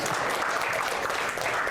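Steady audience applause at a talk on AI regulation in Indonesia, dense and continuous for a brief stretch with no voices over it.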